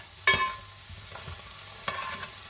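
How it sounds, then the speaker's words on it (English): Onions hiss and sizzle in a hot pan for a vegan soya mince curry, with a couple of sharp spatula knocks and scrapes over the steady frying. "Let's add in our onions. Once that is browned"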